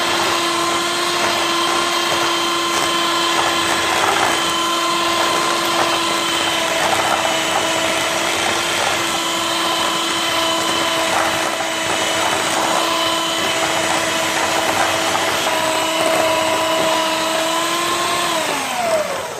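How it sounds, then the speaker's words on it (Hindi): An electric beater whirs steadily as it creams butter and sugar for cake rusk, a continuous loud motor drone holding one pitch before dropping slightly as it slows at the end, with no talk. "मक्खन और चीनी को मिक्स करके अच्छी तरह से इनको बीट करना है।"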